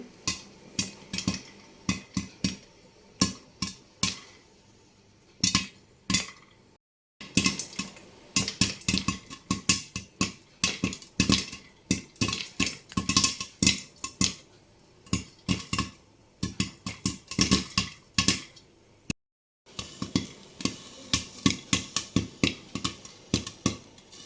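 Popcorn kernels bursting inside a covered pan, a long run of sharp, loud pops that start sparse and come thick and fast, some knocking against the lid, with two brief breaks of silence.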